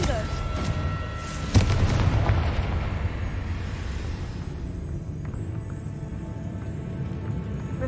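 Confringo fire spell explosions from the Hogwarts Legacy video game: a sharp booming blast around the middle, followed by rumbling and crackling game effects that fade out, with other game sounds continuing.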